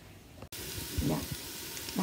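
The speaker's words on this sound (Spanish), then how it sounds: "Después voy a agregar el pollo en filete para saltearlo." Chicken fillet sautés in a pan with onion and garlic for a stew with peas, a steady close sizzle after a brief cut, with light stirring clinks underneath.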